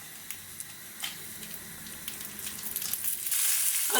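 Cashews and dried red chillies roast in a pan for mint rice, giving a steady close sizzle with scattered crackles and pops that grow louder toward the end.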